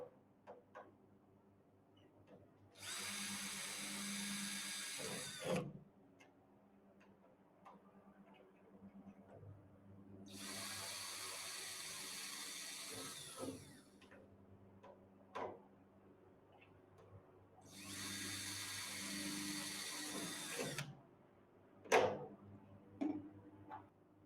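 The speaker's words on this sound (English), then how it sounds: "Use a small bit to drill a pilot hole for the screws and countersink the holes." Three bursts of a power drill whirring as it drills small pilot holes in a Talon A600 helicopter tail boom, each a few seconds long, separated by quiet pauses with small clicks and knocks.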